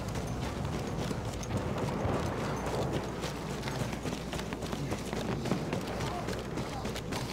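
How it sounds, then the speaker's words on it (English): Horse galloping in the Battlefield 1 video game, Sinai Desert conquest match: steady rapid hoofbeats run continuously through the clip amid dense battlefield noise. "Sounds like a horse."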